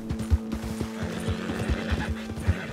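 A horse in the video game Red Dead Redemption 2 snorts and whinnies while its hooves clip-clop in a steady rhythm, close and clear, over a low continuous game music bed.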